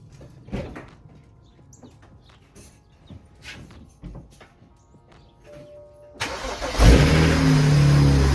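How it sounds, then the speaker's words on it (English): A BMW 335i engine cranks and catches, settling into a loud, steady idle close by after several seconds of quieter handling noises and clunks. "car started."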